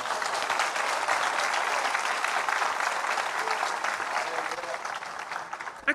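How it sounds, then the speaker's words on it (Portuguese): A church congregation claps loudly and continuously, a thick, lively wash of applause that stays strong throughout and tapers slightly at the end. "Dá um forte aplauso a Jesus pela sua vida aí."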